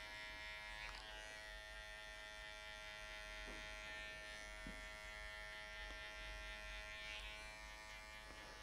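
Cordless hair clippers without a guard, worked gradually closer during a buzzcut fade in a barbershop, give a steady, close electric buzz with a constant motor whine, brief slight changes as the blade meets hair, and no speech.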